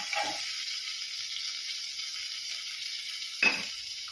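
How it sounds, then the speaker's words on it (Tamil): Ginger and curry leaves sautéing in a pan make a steady, bright hiss that stays even from start to finish, with a quick clatter of stirring near the start and another near the end. "இஞ்சியும் போட்டுடலாம் அதெல்லாம் வதங்கட்டும்"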